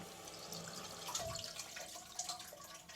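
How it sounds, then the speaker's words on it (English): Water runs and trickles steadily into a toilet cistern through its inlet valve, a continuous close rushing with small splashy fluctuations and no talking. "You can hear the water coming in"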